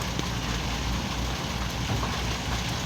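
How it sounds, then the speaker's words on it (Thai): Rain arriving over an excavation and pond-dredging site with excavators, a dense, steady hiss of falling rain close by, with no voices. "ฝนมาแล้วครับ"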